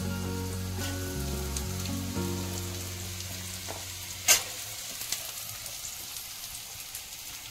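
Beans dropped into a frying pan with carrots hiss and sizzle close by, a steady frying crackle over a low hum, with a sharp clink of a utensil midway.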